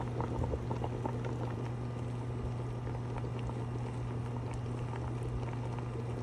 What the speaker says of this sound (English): And now that it's boiling,